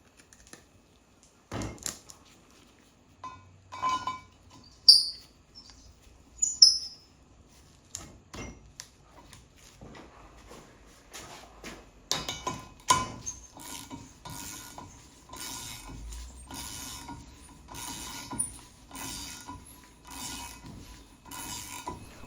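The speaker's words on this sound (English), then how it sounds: "I'll just use my ratchet right here and just wind this thing down into the head" A ratchet winds a thread-cutting tap down into a Toyota 2JZ-GE VVTi cylinder head, giving a steady run of dry, rapid clicks that grows denser and louder in the second half, with no talk.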